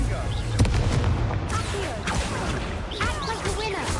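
Confringo fire-spell explosions in Hogwarts Legacy on PS4 go off as booming blasts in a dense run of combat noise, with game voices calling out alongside.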